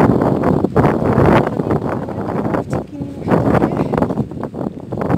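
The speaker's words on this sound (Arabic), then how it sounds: "واحد الريح قوي بزاف" Strong outdoor wind near the sea buffets the microphone in heavy, low rumbling gusts while someone speaks briefly.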